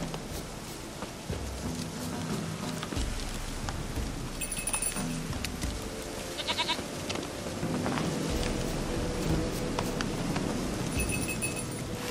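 A goat in The Witcher 3 video game bleats several times over a steady wash of rain-like ambient noise, with no voices.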